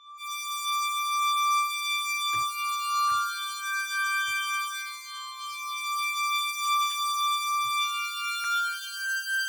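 Analog synthesizer patch with a second envelope generator shaping the filter and extra voices stacked, playing sustained bright harmonic-rich tones that shift pitch in steps, with faint clicks between notes.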